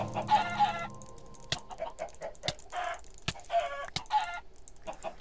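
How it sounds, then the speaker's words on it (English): Chickens in Minecraft Horrorcraft cluck in repeated short bursts, with sharp clicks and thuds from gameplay in between. "No, I hate you, chicken."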